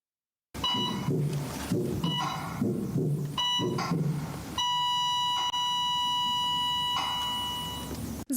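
A memorial signal in Ukrainian medical facilities imitating a stopping heartbeat: a series of short electronic monitor beeps in uneven groups, then one long continuous flatline tone that ends abruptly, loud and clean with no talk.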